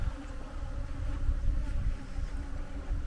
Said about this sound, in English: I know you could probably hear the buzzing, but I did not expect the bees to be out forthright.